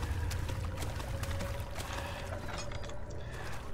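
Water sloshing in the horror game Amnesia: The Dark Descent, a steady, close wash of churning liquid with soft splashes, continuous throughout and with no voices over it.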